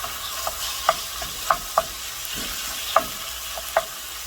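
Ground beef browning in a pan, a steady low sizzle broken by sharp scraping knocks of the spoon every half second or so as the meat is stirred.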